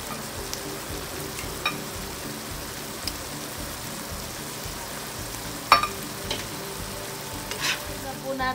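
Shrimp paste (alamang) frying with squash in a pan makes a soft, steady sizzle under occasional light clinks and scrapes of a utensil, heard close and quiet with no talking.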